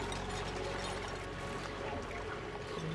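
Liquid oil pours down like a waterfall in a colony-building video game, making a steady, dense rushing splash that stays loud and unbroken throughout.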